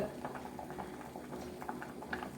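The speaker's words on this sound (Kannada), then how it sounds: "ಇದೀಗ ಚೆನ್ನಾಗಿ ಕುದೀತು" A pot of wild grape curry bubbles at a steady boil, a continuous close-up simmer with soft popping bursts scattered throughout and no voices.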